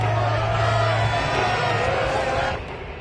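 A home crowd roars and cheers in a Madden football video game, a dense sustained wall of whoops and shouts that stays loud before easing slightly at the end.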